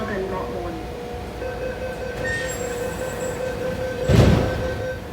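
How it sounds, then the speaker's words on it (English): A metro train pulls away from platform 1 at Tung Chung Station, rumbling with a steady motor whine and faint squealing tones, then swelling to a louder rush near the end. "one more clip for platform 1 with a train leaving the platform"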